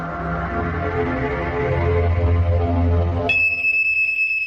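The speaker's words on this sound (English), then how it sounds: "Get a smoke alarm." A residential smoke alarm cuts in after a low, humming background, sounding a sharp, piercing high-pitched tone that holds steady and loud to the end.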